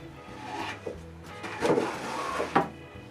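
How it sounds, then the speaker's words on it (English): Wooden drawers slide and bump into place in a handmade nightstand, a few soft scraping rubs and knocks of wood on wood, close and quiet with no talking. "And now I can put all the drawers in place."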